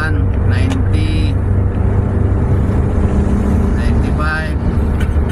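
A car with an automatic transmission fault (incorrect gear ratio, P0730) accelerating to overtake on a road test drive, with steady engine and road roar, faint ticking of the turn signal, and someone talking over it.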